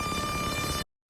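Boss Metal Zone guitar feedback layered with an Arturia Microbrute synth drone, a dense sustained wall of tone with steady pitches over noisy low rumble, loud and constant before cutting off abruptly.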